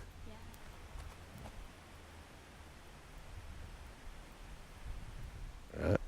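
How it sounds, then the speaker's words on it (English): Steady broadband wash of flowing river water, continuous and moderately distant, with a few crunching footsteps near the end. "And listen, see if you can hear the river."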